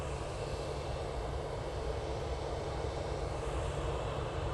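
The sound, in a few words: airliner taking off from Manchester Airport, bound for Budapest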